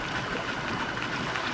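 A boat pushes through river water on the Loire, making waves: a continuous, close rushing and splashing wash with no talk.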